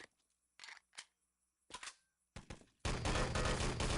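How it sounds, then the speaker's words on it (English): Rifle fire in the Enemy Territory game, a few sharp separate reports spread over the first seconds, then a dense continuous burst of loud gunfire filling the end. "Nice double rifle from East Tower by the sounds of things"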